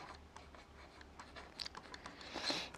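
Marker or chalk strokes on a board during a chemistry lesson, soft scratchy swipes that build in the final second, faint and close with no talk over them.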